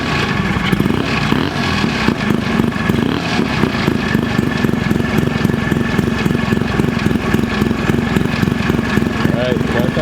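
A rotary-engined ATV with a working torque converter runs close by, its loud, fast, buzzy engine drone holding steady throughout while someone talks over it.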